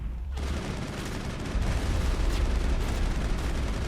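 Sniper gunfire and battle noise from the Mass Effect video game form a dense, loud barrage that surges after a brief lull at the start, with a voice faintly mixed in.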